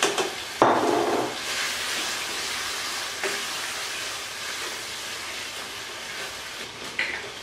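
Yogurt is stirred into mutton karahi masala frying in a pan, giving a steady broadband sizzle with occasional scraping stirs and clinks, no talking.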